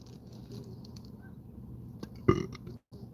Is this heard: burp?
yes